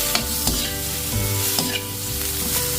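Mixed vegetables, including cauliflower and broccoli, stir-fry in a hot pan with a steady close sizzle and occasional clinks and scrapes of stirring, with no voices.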